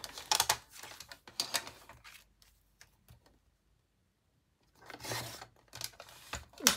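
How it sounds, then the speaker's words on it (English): Scissors snipping through a paper bag in close, quiet bursts of crisp cutting and rustling, with a silent pause in the middle before more cuts resume. "I think we are going to cut it off there."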